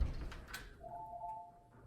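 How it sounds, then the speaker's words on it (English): A Ring Alarm base station gives a single faint, sustained electronic ding as a door sensor opens, heard quietly over a soft background. "you'll hear the base station ding"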